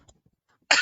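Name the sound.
cough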